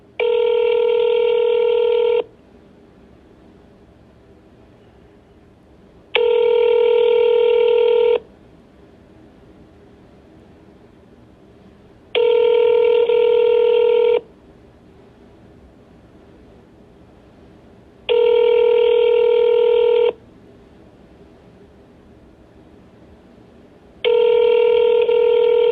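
A telephone line rings while a call to the Tallahassee Police Department is transferred, a steady electronic tone repeating in five evenly spaced bursts of about two seconds each, separated by quiet gaps with faint background hiss.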